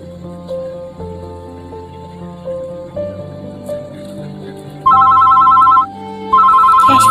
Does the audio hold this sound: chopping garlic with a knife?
no